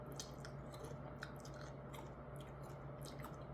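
Fried chicken being chewed close up, a steady run of soft, moist chewing and occasional crunchy bites for a few seconds with no talking.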